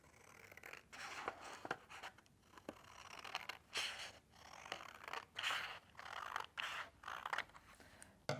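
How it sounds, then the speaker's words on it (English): Scissors snipping paper into strips, a series of quiet close crisp cuts and rustles repeating in an irregular rhythm. "with a pair of scissors, try and cut them as straight as possible"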